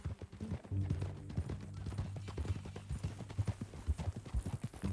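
Horse hooves clip-clop steadily at a walk in Red Dead Redemption 2, a rhythmic clatter of close, fairly loud footfalls over a low background hum, with a voice briefly heard.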